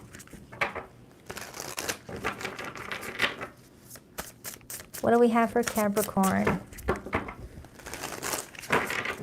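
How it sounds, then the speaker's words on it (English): A tarot card deck is shuffled in several crisp riffling bursts, close and fairly quiet, interleaved with a woman's speech. "2 more shuffles"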